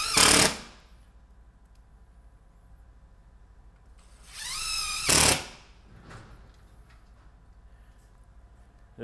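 A hammer drill drives into wall studs during a wall-mounted data rack install, a short loud burst at the start and a longer whining, rattling burst midway, with brief quieter mechanical clicks between.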